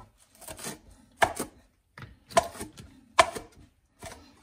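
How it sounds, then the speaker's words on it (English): Knife chopping vegetable stems on a cutting board at home, a few quick clustered thuds and taps, three sharp distinct chops standing out, close and clear with no talking. "Lovely job chopping it up."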